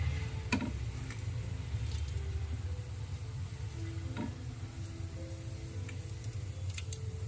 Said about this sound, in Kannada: ನೋಡಿ ಅದು ಚಟ್ಪಟ ಅಂತ ಇದೆ.